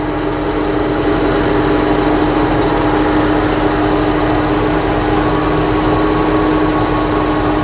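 Small engine idling steadily with a persistent rattle, a loud continuous droning hum that stays even throughout with no talking.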